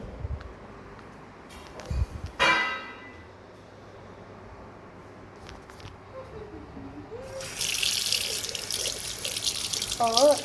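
A water tap opens partway through and runs steadily as hands are washed beneath it, following a stretch of quiet room sounds and a few faint clatters.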